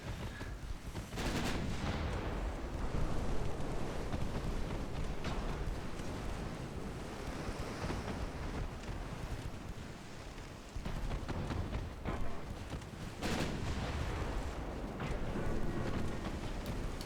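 Naval gun salvos boom from a warship in a naval strategy video game, dense, continuous rumbling blasts with sharper cracks near the start and again partway through, loud and sustained throughout.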